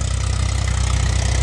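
An Eicher 380 tractor engine runs steadily at close range with a continuous low diesel throb, working on flood-levelled farm fields near the UP–Haryana border.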